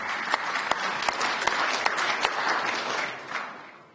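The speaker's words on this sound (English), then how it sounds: "That's an applause line." Audience applause at a climate policy talk, a steady wash of many hands clapping with a few sharper individual claps, holding loud for about three seconds before fading out.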